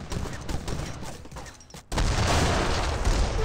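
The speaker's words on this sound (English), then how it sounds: "Great Bombard rotating around, should get a massive shot on these infantry forces." Great Bombard cannon fire in Age of Empires 3, dense volleys of gunfire and booms during a battle against infantry, a steady rumbling barrage that swells loud and heavy partway through.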